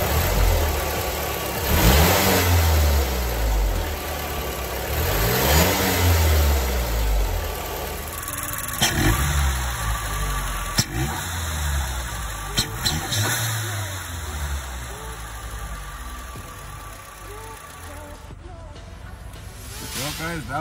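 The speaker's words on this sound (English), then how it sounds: "that was the sound of the JBR in full intake" Mazdaspeed engine fitted with a JBR stage 2 short ram intake, rumbling and revving in steady swells with rising and falling pitch, close and fairly loud, with intake hiss and a few sharp clicks near the end.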